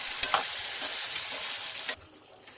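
Seekh tadka sizzles in a pan on a low flame, a steady close frying hiss with a few light stirring scrapes, then the sizzle drops to a quiet simmer near the end.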